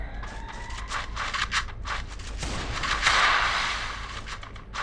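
Shotgun blasts in a 1v1 video game match come as a rapid series of sharp, loud bursts. They build into a harsher, denser volley near the end.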